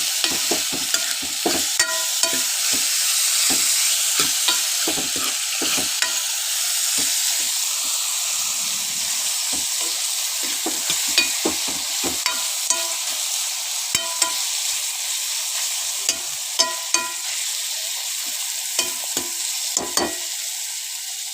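Ivy gourd pieces stir-frying in a pan over a medium flame, with a steady close sizzle and hiss broken by repeated scraping clicks and knocks of stirring, no voices.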